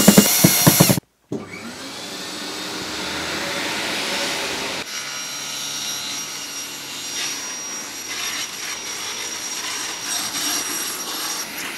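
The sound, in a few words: screwing wooden panels onto a wall with a power drill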